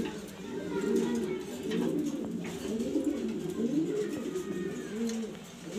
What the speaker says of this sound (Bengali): দেখতে পারতেছেন নর কবুতরটা মাদিটার জন্য একটু দৌড়াদৌড়ি করতেছে।